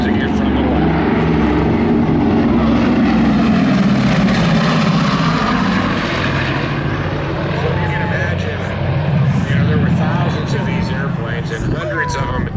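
A World War II B-29 propeller bomber flies past at an air museum weekend, its loud, throbbing multi-engine drone swelling and then fading, with people talking over it.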